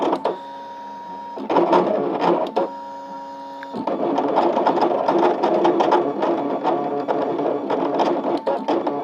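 An electronic cutting machine cutting paper whirs and clatters steadily with motor hum and rapid ticking, pausing briefly before resuming at close range.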